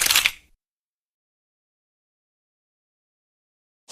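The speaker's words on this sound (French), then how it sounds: "J'appuie sur le déclencheur." Shutter release on a single-lens reflex camera firing once while photographing a waterfall at a slow shutter speed, giving a short sharp mechanical click followed by silence and a faint second click at the very end.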